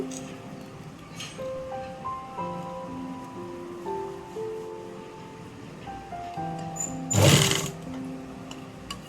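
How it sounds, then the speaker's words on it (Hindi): A sewing machine runs a straight stitch to attach elastic into the waistband of trousers, a soft continuous hum with a brief louder burst near the end, fairly quiet overall. "इस प्रकार से इलास्टिक रखने के बाद सीधा सिलाई लगा लेंगे"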